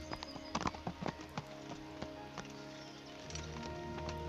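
Horse hooves clip-clopping in the medieval game Kingdom Come: Deliverance, a handful of distinct hoof strikes in an uneven gait over a low, steady ambient backdrop, close and moderately loud.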